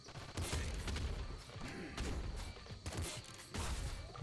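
Enemy gunfire in Nuclear Throne on an inverted jungle level, rapid bursts of small crackling shots and clattering impacts in uneven clusters over a busy game soundscape.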